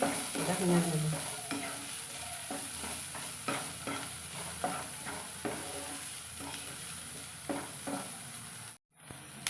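Leftover rice being stir-fried with chopped chili in a pan, a constant sizzle under repeated scraping stirs of a spatula, close and fairly quiet, with a brief dropout near the end.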